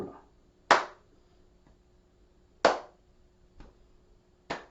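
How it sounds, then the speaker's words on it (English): During a brain-fitness exercise class, a group claps together in single sharp bursts spaced about two seconds apart, with softer taps between them as hands strike shoulders in rhythm. "So let's try a clap, tap the same shoulder, and tap the same shoulder."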